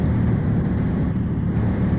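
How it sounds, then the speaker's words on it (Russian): Truck engine in the 18 Wheels of Steel: Extreme Trucker driving game, a steady low drone running evenly and alone throughout, with light airy noise above and no talk. "Вот чисто вот гудение движка машины и все."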